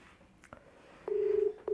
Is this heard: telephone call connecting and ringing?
yes